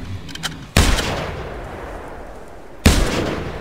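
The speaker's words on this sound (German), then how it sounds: "So, wir schießen einfach weiter auf das Umfeld." Two loud, sharp hunting-rifle shots from theHunter: Primal ring out about two seconds apart, each with a long rumbling echo trailing off, without any talk.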